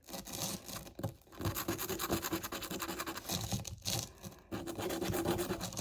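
A chisel scrapes and grinds against rock while mining for diamonds: steady, close, gritty scratching strokes that run almost continuously, with two short pauses.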